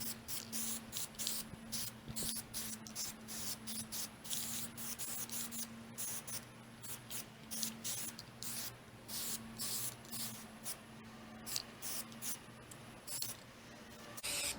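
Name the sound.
spray painting with a rattle can of white paint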